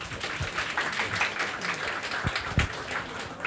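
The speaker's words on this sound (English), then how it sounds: "So a big applause for you for being here." An audience at the Pitch2pitch Season 4 grand final, a Bulgarian startup pitching competition, claps in steady applause, moderately loud and continuous.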